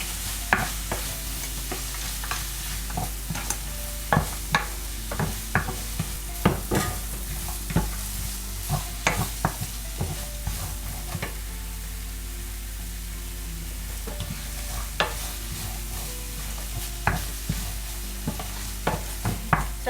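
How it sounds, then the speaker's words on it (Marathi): Ground masala paste for crab curry frying and being stirred in a pan, with a steady sizzle beneath repeated sharp scrapes and clacks of a spoon against the pot over twenty seconds, close and fairly loud, no talking. "वाटण टाकल्यानंतर ते सुद्धा चांगलं फ्राय करून घ्यायचं आहे."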